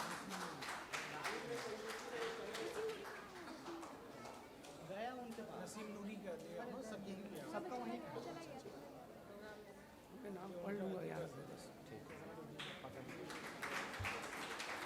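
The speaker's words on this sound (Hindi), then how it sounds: "बुज़ुर्ग शायर इस्तकबाल करे तालियों से आप" A mushaira audience gives scattered applause welcoming an elderly poet, with hand claps mixed under lively crowd chatter and voices throughout.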